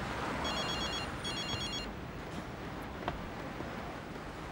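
Telephone ringing in two short trilling bursts, fairly faint under a soft background hiss, then the room goes quiet.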